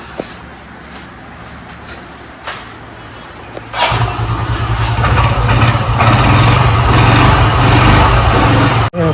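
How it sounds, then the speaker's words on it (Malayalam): A used motorcycle engine starts and settles into a steady, loud idle that keeps running for several seconds, then cuts off abruptly at the end. "എഞ്ചിൻ്റെ ഗുണമെന്ന് വെച്ച് കഴിഞ്ഞാൽ ക്ലീൻ സൗണ്ട് ആയിരിക്കും"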